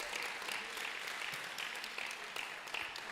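An audience at a community development and donation ceremony in Abura claps continuously, a faint, distant wash of steady applause with no voices on top.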